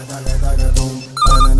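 A telephone rings loudly in a dramatic film scene, a short electronic ringtone pattern that pauses briefly and then starts again, layered over background music.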